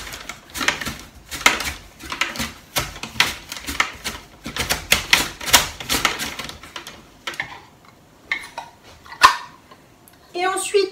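Sweet potato being cut on a flexible cutting board using a hand guard: a run of rapid, sharp knife taps and clacks against the board, with occasional pauses and a voice speaking near the end.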